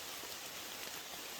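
Rain falls at an outdoor shooting range, a faint, steady hiss of drops pattering on surfaces, continuous and soft with no voices.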